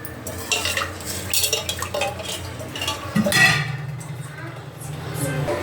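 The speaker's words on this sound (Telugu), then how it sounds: "ఇప్పుడు ఒకసారి రైస్ కలుపుకుందాం." Rice is stirred and scraped around in a cooking pot of mutton bagara rice, with repeated metallic clinks and scrapes of a spoon against the vessel, close and moderately loud, with a faint sizzle underneath.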